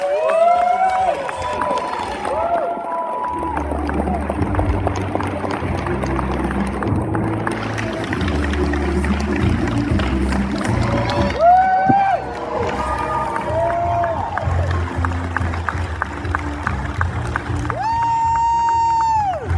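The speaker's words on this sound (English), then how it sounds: "give a huge round of applause." A large convention hall audience at a fiftieth-anniversary Happy Days cast panel applauds and cheers loudly and continuously, with whoops and a few voices rising over the steady clapping.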